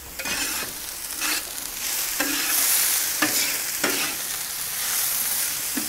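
Onions and garlic sizzle steadily in a pan for paella, with a spoon stirring and scraping through them several times in loose, repeated strokes close by.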